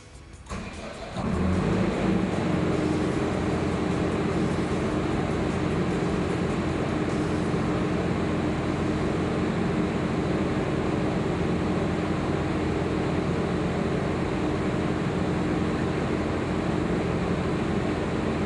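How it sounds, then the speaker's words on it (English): Europower 100 kVA diesel generator with a Volvo engine starting up and settling into a loud, steady close-up drone that holds unchanged throughout. "Let's listen to the generator now."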